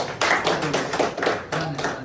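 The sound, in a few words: people clapping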